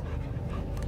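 Brief, close dog sound in the video game Guardians of the Galaxy: a short run of panting, huffing breaths rather than clear barks.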